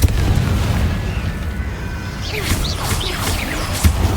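A Confringo fire spell explodes in Hogwarts Legacy, a dense booming blast with rumbling low end, followed by crackling debris and magical whooshes during a battle, with another heavy thump near the end.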